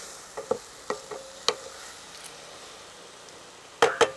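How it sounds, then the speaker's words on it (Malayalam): Ivy gourd (kovakka) being sautéed in a pan: sparse spatula taps and scrapes against the pan over a faint low sizzle, with a pair of louder knocks near the end and no talk. "നല്ലോണം വഴറ്റി കൊടുക്കണം"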